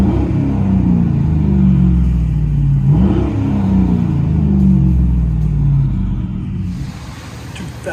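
A 2011 Chevy Silverado with a 5.3L V8 and true dual straight-pipe exhaust revving: a loud, deep rumbling roar rising and falling through repeated throttle blips, close and continuous.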